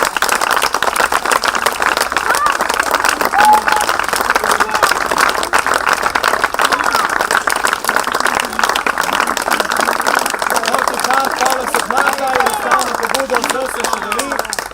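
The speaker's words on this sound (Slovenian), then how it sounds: "Lep aplavz!" An outdoor crowd applauds after a ribbon-cutting at the official opening of a sports park in Opčine, steady dense clapping throughout with a murmur of voices underneath.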